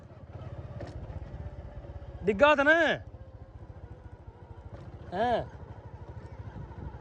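A motorcycle engine runs steadily with a low, pulsing putter throughout, close by, while a voice speaks briefly over it twice.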